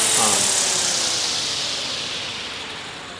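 Velos helicopter rotors spin down under the rotor brake with blades at zero pitch, a loud, broad whooshing whine that steadily fades and lowers over a few seconds.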